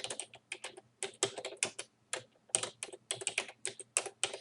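Rapid keystrokes on a computer keyboard while formatting a document in Microsoft Word, steady clusters of close, crisp clicks with brief pauses between words and no voices.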